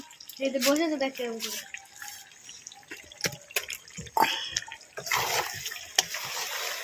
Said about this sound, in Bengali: এবার আমি জল দিয়ে দেবো গরম জল